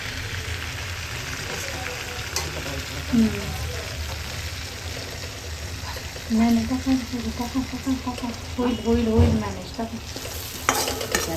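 Chopped onion frying crisp in a kadhai for dal tadka, a steady hiss and crackle with occasional stirring scrapes, joined midway by a faint voice in the background.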